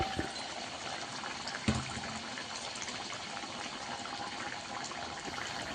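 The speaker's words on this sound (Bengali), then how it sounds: "মাছগুলো দিয়ে আর একটু ফুটিয়ে নিলেই রান্না রেডি হয়ে যাবে।" A pot of fish curry (mourala fish jhal) with vegetables bubbling and simmering, a continuous dense burbling boil close by with one brief knock, no voices.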